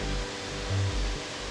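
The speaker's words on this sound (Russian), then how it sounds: "И вот этот наш шикарный водопад." A waterfall at a German winter resort, a steady broad rush of falling water, close and continuous throughout with no voices.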